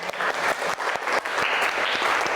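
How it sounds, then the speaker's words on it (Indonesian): A class of students applauding after a debate, a short burst of dense, steady clapping close by. "Ibu berikan tepuk tangan."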